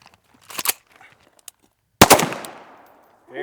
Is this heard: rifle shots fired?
yes